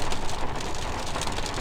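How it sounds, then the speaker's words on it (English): Sudden rain pelts a Cupra Born electric car on the road, a dense, steady hiss of drops drumming on the body and glass, loud and continuous with no talking. "it started raining all of a sudden"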